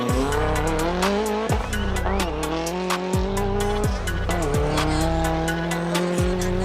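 An Audi TT competing in Group Modified 4 at a spring sprint event revs hard through repeated gear changes, engine note climbing and dropping in steady cycles, loud and close with tire squeal.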